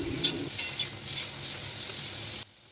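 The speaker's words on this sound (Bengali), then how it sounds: "দেখো আমার আলু কুমড়োটা আমি ভাজাটা বসিয়ে দিয়েছি।" Diced potato and pumpkin fry in a pan with a steady, close sizzle, a few sharp stirring scrapes and clinks early on, before the sound cuts off abruptly.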